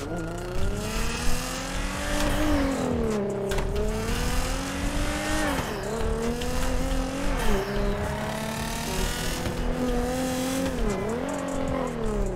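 A rare stolen car speeds through the streets in GTA 5, its engine roaring loudly and steadily with repeated rising gear-shift sweeps and brief dips as it accelerates and brakes.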